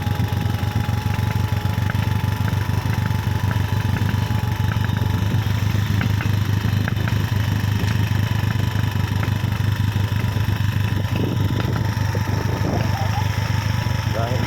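A motorboat engine drones loud and steady near the shore at San Juan, with a constant low rumble and no change in pitch throughout, while people talk over it.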